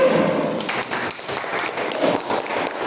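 Students in an Indonesian junior high civics classroom clap together after a classmate gives a conclusion, a short burst of close, dense applause lasting a few seconds.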